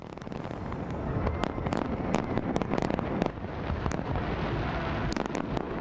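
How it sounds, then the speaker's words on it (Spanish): New Year fireworks burst over the River Thames in London, a dense barrage of sharp cracks and booming explosions layered over a continuous crackling roar, loud and sustained throughout. "los fuegos artificiales sí han iluminado el cielo de Londres"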